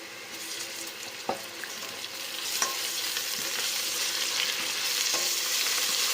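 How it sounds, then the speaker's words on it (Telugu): Ginger garlic paste fries with browning onions in a pan for biryani, giving a soft, steady sizzle that grows slightly louder, with occasional spoon clinks and scrapes and no talking. "పేస్ట్ పచ్చివాసన పోయే వరకు వేయించుకోవాలి"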